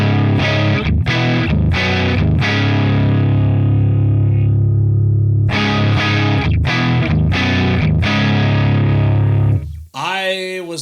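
Loud electric guitar through a cranked Neural DSP Archetype Abasi amp plugin, strummed chords with a slight gritty breakup, a long ringing pause, then more chords and a final sweeping squeal.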